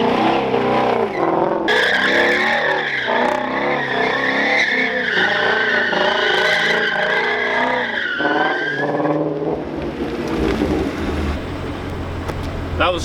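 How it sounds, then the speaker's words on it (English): A purple Shelby GT350 spins donuts, its tires shrieking in a long, loud, wavering squeal over a revving engine before the squeal cuts off, leaving a lower rumble. "Have you ever seen a purple Shelby GT350 do donuts?"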